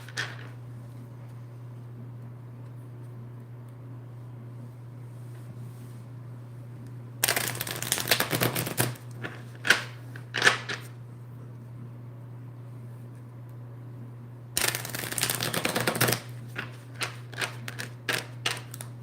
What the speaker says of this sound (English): Look at these cards just going crazy all over the table here.